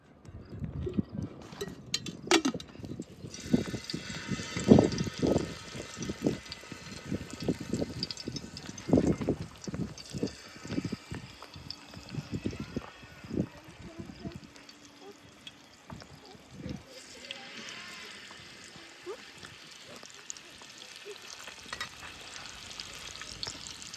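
Bangda (mackerel) fish frying in oil in a pan, a steady crackling sizzle running under intermittent clatter and a voice talking nearby.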